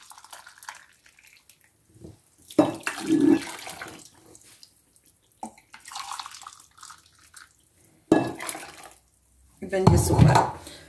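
Hot water pouring in short bursts between stretches of quiet while making mini desserts, with a voice speaking intermittently nearby.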